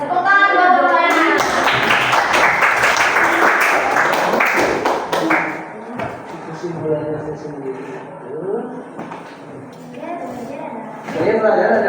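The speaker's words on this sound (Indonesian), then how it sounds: "Tepuk tangan buat Bapak." Students in a classroom clap for the teacher in a loud burst of applause lasting a few seconds, followed by children's voices and talking.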